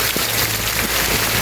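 Steady rain pours down on a mountain trek at Harishchandragad, a dense, constant hiss close around the listener, with no voices.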